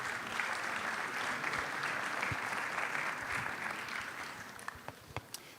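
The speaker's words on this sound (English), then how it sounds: "give them an applause." Audience applause for panelists at an international architecture festival, a dense even patter of many hands that holds steady and then thins out, leaving a few scattered claps at the end.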